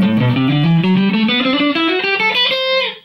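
A distorted electric guitar runs up a three-note-per-string scale in a quick, steady stream of notes, loud and close, alone with no voices.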